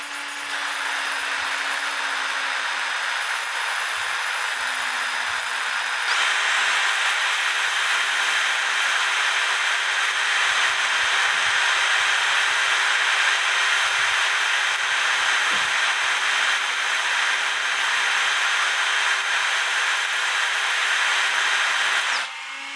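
A power drill bores into a wooden antique shield clock plate, running steadily for over twenty seconds with a high whining motor and grinding bite into wood, getting slightly louder partway through.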